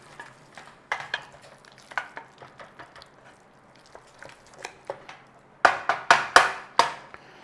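Ingredients for corned beef on toast melt gently in a small pan over a low flame, with a soft sizzle beneath scattered ticks and scrapes of a utensil that grow louder and busier toward the end.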